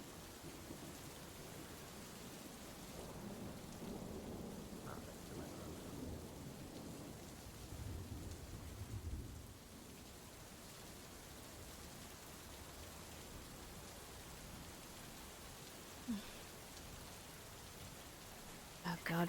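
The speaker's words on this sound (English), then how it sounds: "I'm in the bloody rain" Steady rain falls in a VRChat roleplay scene, with low rumbles of thunder swelling midway and a few sharp knocks near the end, all fairly quiet.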